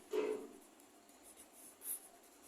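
Pen or chalk writing out a maths working for a quadratic equation, a short faint scratching stroke followed by a lighter second scrape in a quiet room.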